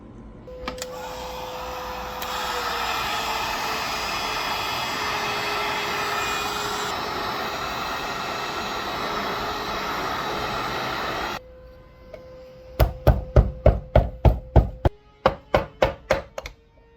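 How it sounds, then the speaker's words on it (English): A heat gun blows with a steady whooshing hum, close and continuous for about eleven seconds while heating the side engine cover of a 1979 Honda XR500 motorcycle, then cuts out and a run of sharp rhythmic taps follows. "heated it with the heat gun"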